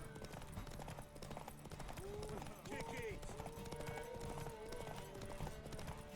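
Horse hooves galloping in The Witcher 3, a steady rapid clip-clop rhythm under shouted voices and game ambience.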